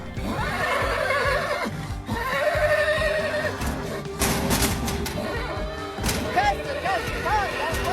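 An Arabian stallion neighs repeatedly in loud, shrill whinnies over a busy background of thumps and hoof sounds, with a person talking throughout.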